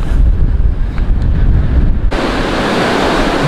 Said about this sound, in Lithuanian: Labai vėjuota.